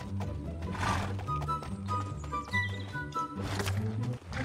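A horse in the online game Alicia Online makes soft hoof clip-clops and snorting, whinny-like sounds, moderately quiet, against a busy game soundscape with chiming tones.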